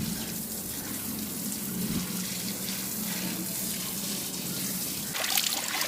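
Clean water flowing along a small channel into chilli plants in a village garden, a steady, close, continuous gush and splash with no speech.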